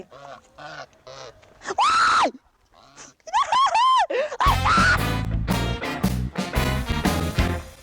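Several loud, close goose honks: a pair of harsh calls, then a run of rising and falling honks, building into a dense, noisy stretch of overlapping honking and squawking.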